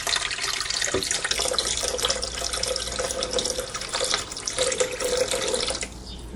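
Coconut water with bits of coconut meat poured into a blender for a pineapple-kale smoothie, a steady close splashing pour lasting several seconds that tapers off at the end.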